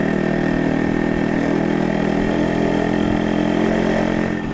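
A 1986 single-owner motorcycle engine idles steadily at close range, a continuous low throbbing rumble with no voices.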